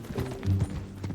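Horse hooves clip-clop in the Red Dead Redemption 2 game, a short run of soft, moderately close hoof falls with faint background murmur.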